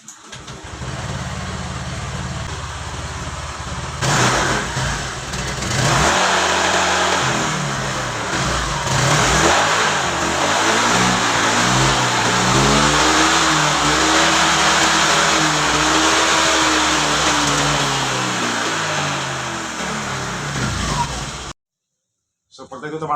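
A Honda Vario 125 scooter with a worn piston from overdue oil changes starts and idles, then revs up and down in several rising and falling sweeps, loud and close, with a person talking over it.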